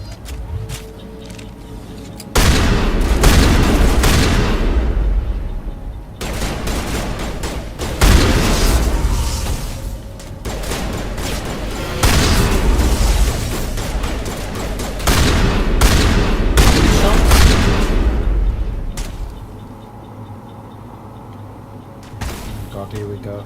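Repeated loud bursts of automatic gunfire from a Mass Effect firefight on Eden Prime follow one another almost without pause over about twenty seconds, with booming impacts mixed in and a quieter stretch at the end.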